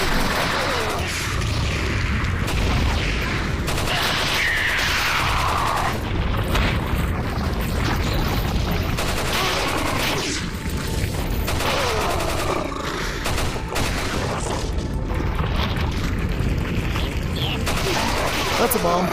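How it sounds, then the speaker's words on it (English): Bomb blasts and bursts of gunfire in the Resident Evil 4 VR game, Mercenaries challenge mode with a Chicago Typewriter machine gun, dense booms and rattling shots throughout, mixed with someone talking over the action. "That's a bomb."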